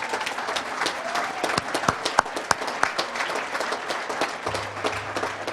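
Loud applause from a banquet crowd at a hall-of-fame dinner, dense steady clapping with sharper individual claps rising out of it, sustained throughout.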